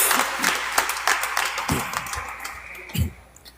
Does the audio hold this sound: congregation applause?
yes